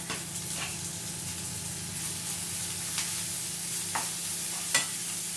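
Green chillies hit hot oil in a pan while masala dosa filling is cooked, producing a continuous close sizzle and hiss with scattered sharp crackles and light stirring scrapes.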